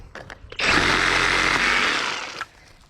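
A Skil SawZall brushless reciprocating saw runs in a single loud, close burst of about two seconds, a harsh buzzing whine that starts and stops abruptly during yard work.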